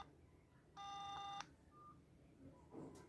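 An S9 Ultra smartwatch dial pad sounds a single clear electronic tone while a number is dialled for a Bluetooth call, followed by a faint short beep and a soft tap in a quiet room.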